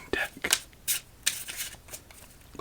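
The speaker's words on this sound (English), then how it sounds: "Let's give this deck 3 more shuffles and begin game number 1." A deck of playing cards being shuffled for solitaire, with crisp riffling bursts repeating in quick succession at close range, soft and quiet.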